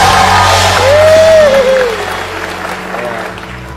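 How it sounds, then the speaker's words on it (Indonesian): Steady audience applause fills the room, loud at first then tapering off, with a voice calling out over the clapping. "Itu tepuk tangan dong buat mana juga."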